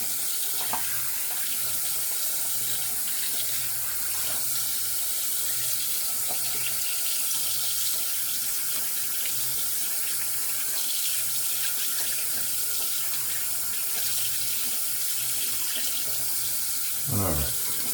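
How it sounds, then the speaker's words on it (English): Tap water runs steadily into a sink while shaving lather is rinsed off, a continuous close splashing stream with a brief louder gush near the end. "let's rinse this off"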